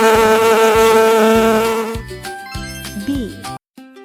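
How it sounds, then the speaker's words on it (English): A bee buzzes loudly and steadily for about two seconds, then light tinkling music with chimes takes over. "Bee."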